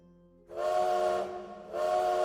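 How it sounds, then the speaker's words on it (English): A steam-style train whistle sounds twice as a train pulls out of a station, a loud, sustained tonal blast followed by a short gap and a second blast, from a tabletop horror game scene. "you hear the whistle"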